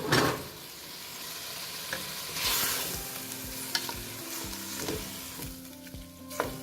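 Tomatoes frying in a pan for chicken biryani, a strong hiss of sizzling broken by repeated scraping and tapping of a spoon stirring the pan, with no talking.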